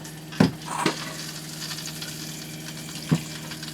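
Constant hissing spray from an RV shower head running at shower temperature after a repair, close and steady, punctuated by a few knocks and bumps.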